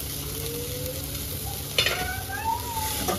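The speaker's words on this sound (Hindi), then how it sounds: "प्याज भुन चुके हैं इसमें, टमाटर डाल देते हैं" Tomatoes and green chilli frying with onions in a pan for pav bhaji, a steady close sizzle with stirring scrapes and a brief louder clatter midway.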